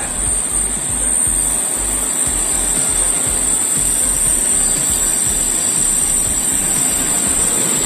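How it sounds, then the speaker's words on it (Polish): TLK Wolin passenger train on the Bohumín–Świnoujście route pulling into a station: a steady, loud rumble of railcars rolling past with rhythmic wheel thumps and a faint high wheel squeal running throughout, no voices. "Wjeżdża pociąg TLK Wolin relacji Bochumin-Świnoujście"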